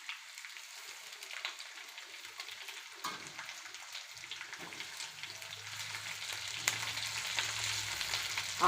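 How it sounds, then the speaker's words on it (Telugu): Curry leaves fry in a little oil in a kadai, a quiet, steady crackling sizzle that grows slightly busier toward the end, with a low hum entering partway through. "ఇప్పుడు మనం కరివేపాకుని ఫ్రై చేసుకోవాలి,"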